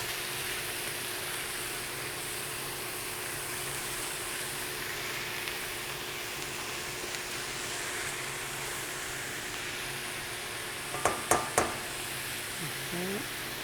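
Onion gently cooking in a pan for chicken paella, a soft steady sizzle hissing evenly throughout, with a few brief clinks of a utensil against the pan near the end.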